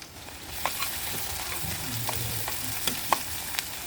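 Chopped onions softening in hot oil for a dried loitta fish bhuna, with a soft continuous sizzle and scattered clinks and stirring scrapes up close, no voices.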